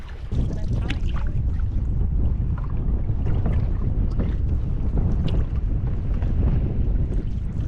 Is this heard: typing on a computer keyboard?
no